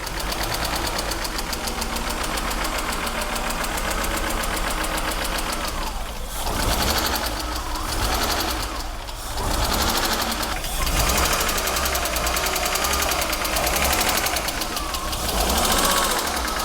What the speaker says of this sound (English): Sounds a bit rough, but 2 years of standing feels like that.